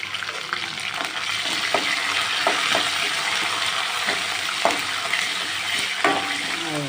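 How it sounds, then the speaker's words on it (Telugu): Tempering seeds and chopped onion fry in a hot pan, giving a steady loud sizzle punctuated by sharp clicks and scrapes of stirring, with no voices. "తాలింపు గింజలు వేసాను, ఉల్లిపాయ వేసాను అంతే."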